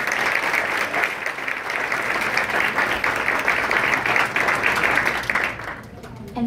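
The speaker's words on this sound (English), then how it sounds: "If we could give them a round of applause." An event audience gives a round of applause for the participating restaurants, a loud, sustained burst of clapping from many hands that thins out and fades near the end.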